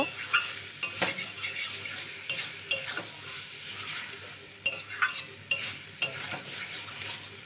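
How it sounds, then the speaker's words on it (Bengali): Chicken gizzard and liver sauté in a pan, a soft sizzle broken by repeated sharp scrapes and knocks of a spoon stirring against the metal, close and fairly quiet. "বেশ সুন্দর করে কষিয়ে নেব"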